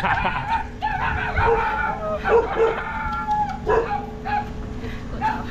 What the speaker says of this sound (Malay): Pengalaman baru kena kejar anjing.